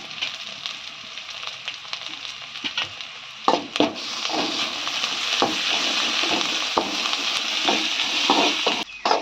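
Onions with curry leaves and ginger garlic paste fry in a pan for a cabbage gravy. A steady, close sizzle builds and holds, broken by occasional sharp spatula scrapes and taps.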